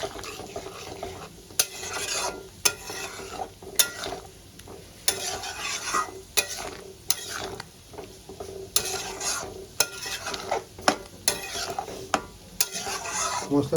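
Rajma being sautéed with spices in a Punjabi-style curry, a steady low sizzle broken by repeated sharp scrapes and knocks of a spoon stirring the pot, with no talking.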